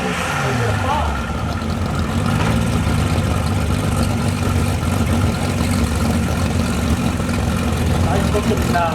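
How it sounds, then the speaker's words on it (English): A Ford Fairmont wagon fitted with a Trailblazer straight-six idles steadily and evenly for nine seconds, a constant low rumble with no revving. "Six-cylinder car. I think it's a Trailblazer engine."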